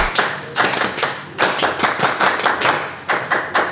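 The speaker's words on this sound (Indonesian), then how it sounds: "kita beri tepuk pramuka untuk Saiful" A group performs the rhythmic Indonesian scout clap, tepuk pramuka, loud and close, with sharp clustered claps in a patterned beat and short pauses between the phrases.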